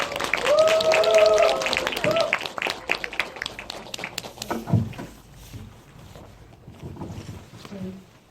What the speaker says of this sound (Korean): 큰 박수로 모셔볼게요.